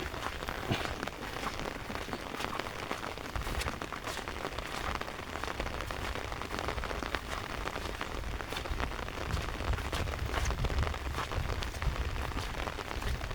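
Steady rain falls over rice fields, a dense continuous hiss of drops on the surface that holds even and close for the whole stretch, with no voices.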